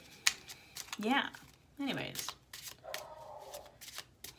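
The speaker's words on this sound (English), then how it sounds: "I've been shuffling this deck forever." A small tarot deck being shuffled by hand, heard as close riffling and papery slaps in short bursts, with someone talking briefly over and between them.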